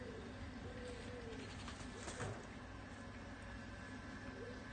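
A pigeon or dove coos softly in a few low, rolling phrases, fairly quiet against a steady indoor background hum.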